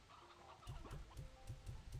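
Chickens in the video game Slime Rancher 2 clucking quietly in a repeated soft rhythm, several short clucks over a faint background.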